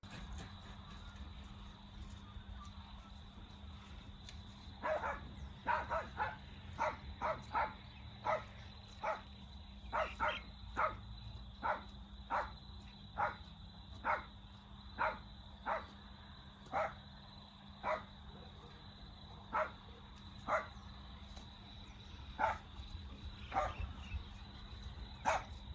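A farm dog barks at cattle in a long run of sharp single barks, spaced at fairly regular intervals and heard from a moderate distance over a faint steady background hum.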